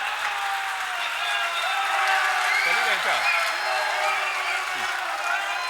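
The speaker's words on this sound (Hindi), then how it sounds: "सर सबसे ज्यादा ताली तो आप बजा रहे हैं" Applause from the crowd at a Hindi comic poetry gathering rustles on at moderate level while a voice talks over it.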